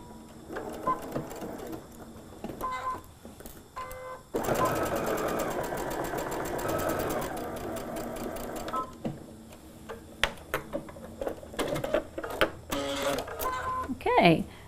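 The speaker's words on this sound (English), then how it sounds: "I'm going to use that feature that I love that allows me to get perfect placement of my needle on this machine, and I'm just going to sew." A sewing machine sews a quilt seam, giving a fast steady mechanical stitching whir of about four seconds between stretches of talking, followed by soft clicks and handling noises.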